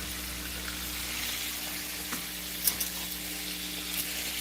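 Chicken drumsticks frying in hot oil, a steady close-up sizzle with light crackles and a few sharper pops, heard alone.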